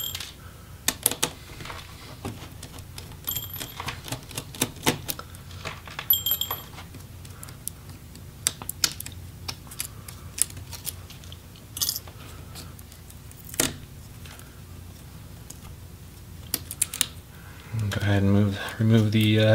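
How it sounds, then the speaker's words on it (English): Small metal covers being pried and lifted off inside an opened Lenovo Yoga 720 13IKB laptop: scattered close clicks and light metallic taps through the clip, with a denser scraping rustle near the end. "we'll have to go ahead and remove the little silver covers on either side"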